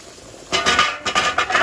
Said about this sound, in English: Once the water comes to a boil, remove the lid, add these trays.